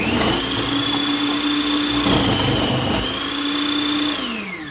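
A food processor chopping onion runs close and loud as a steady motor whine, holding one pitch for about four seconds before winding down, with no talk.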